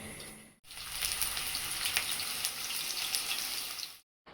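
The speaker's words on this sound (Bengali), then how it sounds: "এখন আমি আলুটাকে ভেজে নিব এখানে।" Potatoes fry in a pan, giving a steady, dense hiss of sizzling oil close up that starts abruptly after a short gap and cuts off cleanly near the end.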